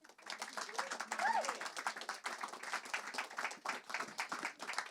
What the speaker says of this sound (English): please applaud as they come and join me